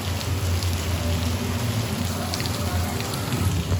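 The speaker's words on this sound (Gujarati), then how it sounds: "જોવો વરસાદ, જોવો ધોધમાર વરસાદ આવે છે" A downpour of heavy rain drums steadily and loudly nearby during a Ganesh Visarjan outing, a thick continuous wash with sharper drops striking surfaces, and no voices.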